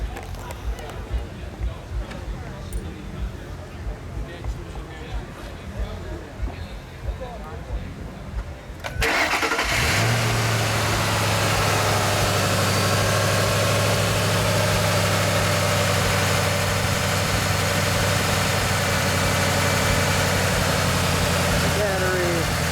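A red 2007 Ford Mustang Foose Stallion Edition with a cold air package starts up after a quiet stretch: the engine fires abruptly and settles into a loud, steady idle that carries on to the end, with people talking over it.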